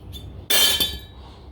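An aluminium part pulled from a Blu-ray player being scrapped for gold recovery gives a sharp metallic clink with a bright ringing tail, a single close impact followed by a quieter knock, with no talking.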